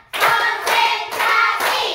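A group of children clap their hands together in a classroom, in four bursts of clapping that follow a steady counted rhythm, loud and close with no talking over them.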